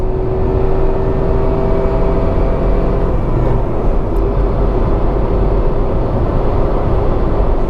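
A Tata Altroz 1.2L petrol car accelerates in economy mode, heard from inside the cabin as a steady engine drone with a constant hum and road rumble that rises gradually and never becomes frantic.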